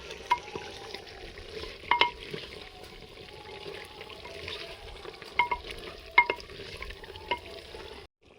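Chicken with fried potatoes and cumin, coriander and garam masala paste sautéed in a clay pot over a low fire, soft sizzling under repeated sharp scraping stirs and clinks, close, no talking.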